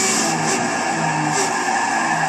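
Gran Turismo race car under heavy trail braking into a corner, a steady loud engine drone with tire scrub across a continuous two-second stretch and no talk.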